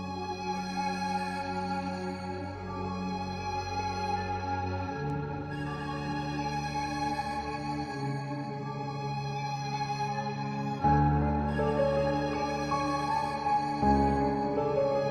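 An Analog Lab string preset runs through a Portal digital tape toys effect, giving a sustained, layered string pad with a shifting low bass line underneath that swells louder toward the end, playing alone without talk.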